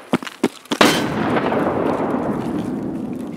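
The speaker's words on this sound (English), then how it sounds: "Flashbang out." A flashbang grenade detonates in the tactical shooter Escape from Tarkov: a few sharp shots snap first, then one loud, close blast whose broad wash of noise rings out and decays slowly over the following seconds.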